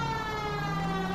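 A wailing siren holds a steady pitch throughout, loud and unbroken, with rich harmonic tones and no talking over it.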